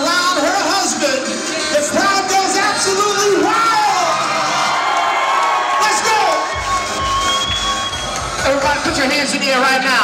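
Wedding reception crowd erupting in loud cheers, whoops and shouts as the bride and groom kiss, a dense, sustained roar with excited voices throughout.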